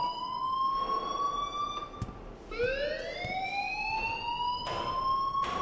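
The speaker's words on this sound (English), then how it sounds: "please turn off that alarm since that's your job" A loud electronic fire alarm in the video game Life Is Strange wails in steady rising sweeps, briefly dipping before the shrill tone climbs again and keeps sounding.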